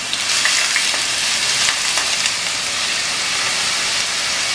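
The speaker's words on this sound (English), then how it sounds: "So now the oil has become hot. Now we will put the onion" Chopped onion sizzling in hot oil in a pan, the first step of a homemade pizza sauce, giving a steady, fairly loud frying hiss that continues evenly with no talking.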